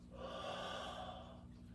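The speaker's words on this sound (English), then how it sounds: "Breathe in, breathe out, breathe in, breathe out, breathe in," A single soft, drawn-out breath taken during a tai chi breathing exercise, quiet and close, swelling gently and then easing off.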